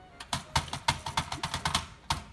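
Brisk typing on a 1972 Brother-made Webster XL-747 manual typewriter set to heavy touch, with about a dozen crisp, close keystrokes clacking in an uneven rhythm and no voices.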